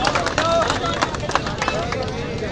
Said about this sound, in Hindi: फिर भी ताली बजा रहे हैं